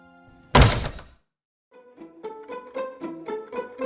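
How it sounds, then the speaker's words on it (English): A front door shuts with one solid, close thunk as someone walks out, followed by a short silence and then gentle tuneful music rising in the background. "And he walked out the front door."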